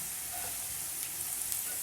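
Carrots sauté in a pan for paneer fried rice, a faint, steady sizzle of oil with soft stirring noises and no talk over it.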